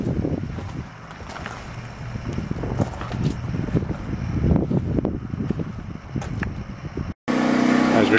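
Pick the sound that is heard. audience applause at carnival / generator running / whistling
generator running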